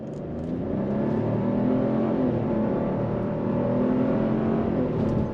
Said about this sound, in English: once this light turns green, we're going to go on throttle